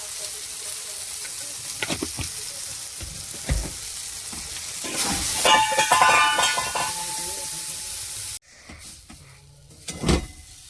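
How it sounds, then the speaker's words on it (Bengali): Peas frying in a pan with salt, a steady close sizzle broken by scraping stirs and a louder burst of crackling midway, then a sudden drop to quieter pan noises with a few clinks. "মটরটা ভালো করে ভেজে নিয়েছি"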